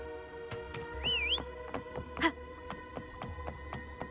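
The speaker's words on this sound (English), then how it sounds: "Try whistling. Like this." A single short rising-and-falling whistle sounds once in the game Wuthering Waves over a steady hum and scattered clicks, followed by a brief sharp tone.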